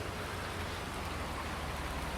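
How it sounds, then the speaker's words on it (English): Steady, even rain in the video game Farming Simulator 19 fills the clip as a dense continuous hiss of falling drops, moderately loud and alone without talk. "Still raining."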